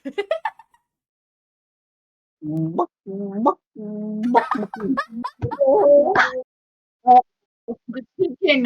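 A chicken in a video game clucks in a string of short, loud, close bursts, starting after a quiet gap and coming quicker toward the end with brief pauses between calls.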